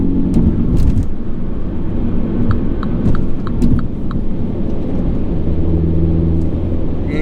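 A Mini John Cooper Works drives through a looping road at about 50 mph. Its engine and road rumble stay loud and steady throughout, with faint light clicks over the top.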